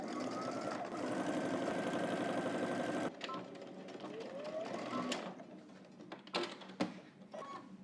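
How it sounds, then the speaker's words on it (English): A home sewing machine stitches around the armhole of a sewn jacket, a steady close mechanical whir for about three seconds before it stops, followed by quieter fabric handling and a few sharp clicks and knocks. "let's head to the machine and stitch all the way around the armhole"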